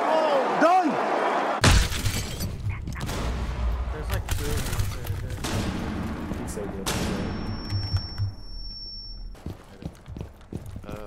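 Gunfire in a multiplayer shooter video game cracks out in sharp bursts and rapid volleys over a steady rumble, loud and close, with players shouting and talking around the shots.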